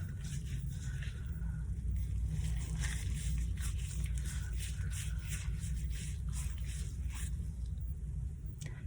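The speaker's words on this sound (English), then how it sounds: "Basically grip your thumb in the webbing of your other thumb and scrub using your fingers." Hands scrub one thumb gripped in the webbing of the other hand while washing, a steady close wet rubbing and squishing that continues without pause.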